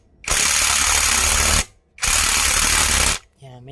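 A hand ratchet tightening bolts on a 150 motorcycle during a home repair, heard as two loud, sustained rapid clicking bursts of about a second and a half each, separated by a short pause, with a brief voice at the end.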